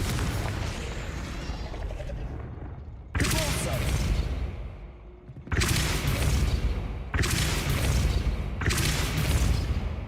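A Confringo spell in a video game sets off four loud, roaring blasts, each one hitting abruptly and then rumbling on before the next.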